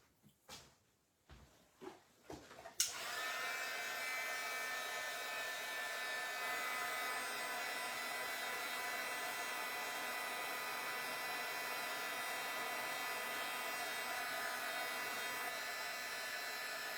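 Hair dryer switched on and blowing steadily at close range to dry a shiny coat, preceded by a few brief knocks and clicks, then a constant loud whooshing hum that continues without talk.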